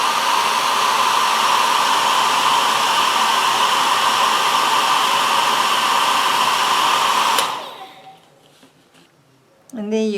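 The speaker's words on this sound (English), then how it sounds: "I'm going to dry it with my hair dryer a little" A hair dryer blows steadily and loudly over a piece of alcohol ink artwork, then cuts off, leaving a short quiet stretch before a voice begins at the end.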